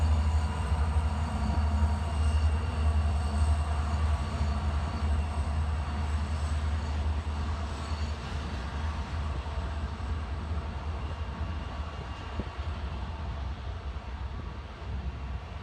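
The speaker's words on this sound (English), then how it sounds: "clip here of a train going through my backyard" A steady, heavy rumble of a freight train rolling past a backyard, with a constant low drone and faint metallic rattling, continuous and unchanging throughout.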